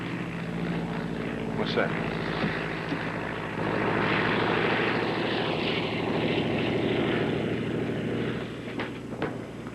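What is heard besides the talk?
propeller airplane flying overhead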